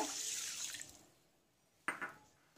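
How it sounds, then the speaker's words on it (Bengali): Water poured from a measuring bowl into a pan of sugar for syrup makes a brief close splashing pour that fades over about a second. A couple of sharp clinks and drips follow. "সেই বাটি মেপে এক বাটি জল দিয়ে দেব"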